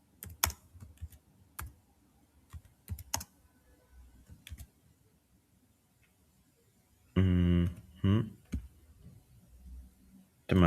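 Keys clatter on a computer keyboard in sparse bursts, with scattered single clicks followed by a denser flurry of typing near the end, fairly close and with no talking over it.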